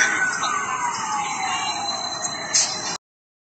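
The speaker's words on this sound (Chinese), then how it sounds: "消防车。" A fire engine siren wails with a long falling tone at a building collapse, loud and continuous over rumbling street noise for about three seconds before cutting off.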